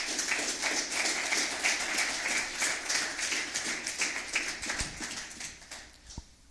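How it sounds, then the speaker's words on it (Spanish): A church congregation claps loudly together in a sustained, dense burst of applause that gradually thins out and fades toward the end. "Dale un fuerte aplauso al Señor."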